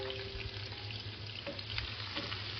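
Half a cup of chopped onion frying in hot oil in a pan, a steady close dense sizzle with faint stirring scrapes.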